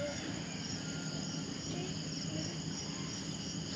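Crickets chirp steadily at a campsite beside a volcano, in a dense, high-pitched chorus that holds the same level throughout, with no talking.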